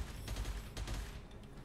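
Faint rapid gunfire from the shooter game Gunfire Reborn rattles in a continuous burst, quiet and somewhat distant under game ambience.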